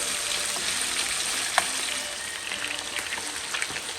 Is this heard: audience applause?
no